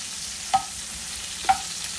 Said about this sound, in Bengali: তো একটুখানি আদা দিয়ে ভালো করে নেড়ে নেওয়া হচ্ছে।